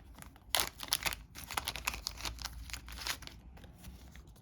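Plastic baggie of board game cards crinkling and rustling as it is handled up close, with quick crackly bursts of varying loudness throughout.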